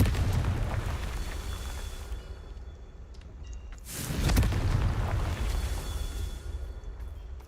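A Confringo fire spell from Hogwarts Legacy goes off in a deep booming burst, rising to a broad rumbling peak before fading, with lighter crackles and pops around it.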